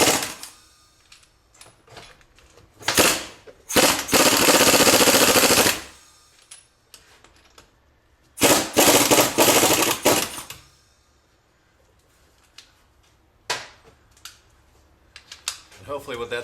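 A power tool drives the strut nut on a 1999 Pontiac Grand Am front strut in loud, close bursts of rapid hammering, two of them lasting about two seconds each, with separate clanks and short taps in between.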